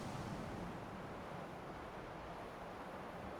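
Cold wind blowing in the video game Skyrim, a steady broadband rush with slight gusting swells, continuous and alone without any voices.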